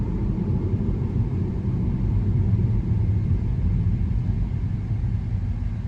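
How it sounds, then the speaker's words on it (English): Steady low tire roar and road rumble inside a 2020 Tesla Model Y Performance on skinny tires and 21-inch wheels, a constant drone with no voices. "The tires are just a little bit on the louder side, but they're extremely skinny, and they're 21-inch wheels"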